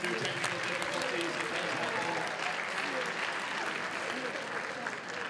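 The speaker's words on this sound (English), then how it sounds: "give our team a huge round of applause" A crowd applauds a team at a closing ceremony, a sustained, even wash of many hands clapping at moderate distance, steady throughout with faint voices beneath.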